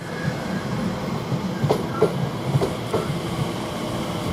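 A train from London Paddington arrives at Shenfield station, a steady rumble with a few rhythmic clacks of wheels over rail joints, close and continuous.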